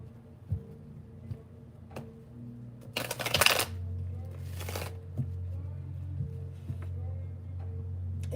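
Tarot cards shuffled in two brief, crisp riffling bursts close by, set against a quiet room hum with a few faint taps.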